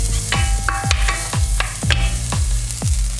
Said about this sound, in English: The next thing I'm gonna put in the chopped garlic and spring onion.